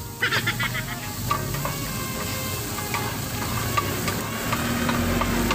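Chopped lemongrass and chili frying in a pan, a continuous close sizzle with scattered crackles and pops and occasional stirring scrapes.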